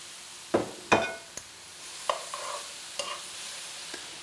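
Bok choy added to a pan with softening mushrooms for a salmon recipe, stirred with several sharp utensil clatters and knocks over a soft, steady sizzle, close and moderately loud.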